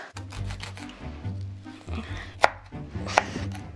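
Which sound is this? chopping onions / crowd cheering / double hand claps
chopping onions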